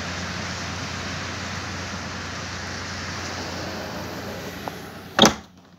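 Steady rain falls continuously in southern Brazil, a broad even hiss with a low hum underneath, ending in a sharp nearby knock or thump before silence.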